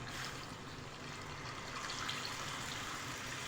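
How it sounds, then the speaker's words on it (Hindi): Steady splashing of water being poured into a pot of kofta curry, a continuous broadband gush lasting throughout at moderate, even volume with no voices. "अब हम इसमें पानी ऐड कर देंगे"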